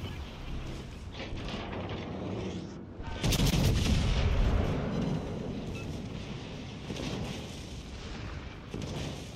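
Heavy warship guns fire in a World of Warships Legends naval battle: one loud, deep boom with a rolling rumble that slowly decays, over continuous engine and sea noise.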